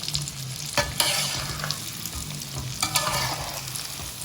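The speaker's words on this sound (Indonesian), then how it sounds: "Nanti kita goreng agak kecoklatan aja" Biji ketapang, a Betawi egg dough snack, frying in foaming oil with a steady close sizzle, punctuated by several sharp stirring scrapes and clinks of a utensil in the pan.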